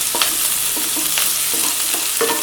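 Vegetables with carrot are stir-fried for Maggi noodles: a spatula scrapes and stirs the pan in several quick strokes over a continuous loud sizzle, close up.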